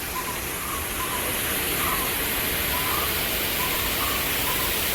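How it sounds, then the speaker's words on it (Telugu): Water from the Lalbagh waterfall at a lake in a Bengaluru botanical garden rushes as a steady, even broadband roar, constant for the whole stretch with no other sounds standing out. "లాల్బాగ్ వాటర్ ఫాల్స్ అంట"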